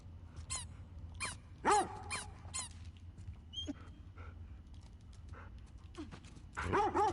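A dog in The Last of Us Part 2 barks repeatedly while playing fetch, a series of short, sharp barks spaced irregularly over a low game ambience, with a cluster of louder barks at the end.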